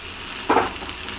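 Fresh prawns fry in a pan, with one short burst of sizzling and stirring that rises and then fades, and a faint hiss under it.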